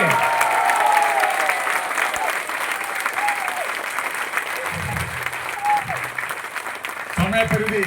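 An audience at a Kozhikode program claps continuously for several seconds, a dense, loud wash of applause with occasional voices and whistles rising above it.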